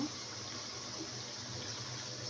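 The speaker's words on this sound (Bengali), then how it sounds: "পরিমাণ মতো পানি দিচ্ছি ছোলাটা সিদ্ধ হওয়ার জন্য" A continuous stream of water pours and gushes steadily into a pot of chickpeas and beef, no voices present.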